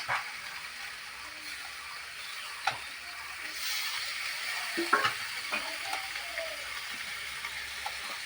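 Spice-bowl rinse water poured into a hot pan of frying fish in a village kitchen sets off a steady broad sizzle with a few sharp spits and clinks, moderately close, and no speech.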